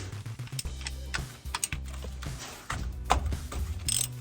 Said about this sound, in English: It's always good to check to make sure that you can get the fill plug off